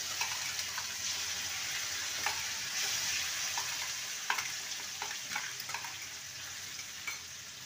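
Boiled spice paste sizzles and fries in a pan over tempered whole spices, a soft continuous hiss with occasional stirring clicks and scrapes, fairly quiet and close with no talking.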